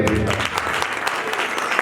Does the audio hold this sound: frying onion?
no